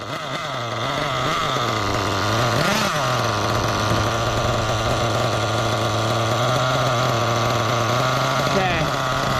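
A nitro engine runs loud and close throughout while its carburetor is tuned, holding a steady idle drone with one brief rise in revs near the start.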